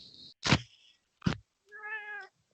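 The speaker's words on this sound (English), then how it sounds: "Yes, cat." A cat meows three times in short separate calls, close and clear, the last one longer and more tonal, with silence between them and no one talking.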